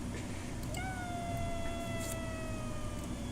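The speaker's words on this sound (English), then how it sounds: "It sounds like a kitty." A cat's meow sound effect used in a FNAF fangame, a single drawn-out, slightly falling tonal call heard alone over a steady noisy background.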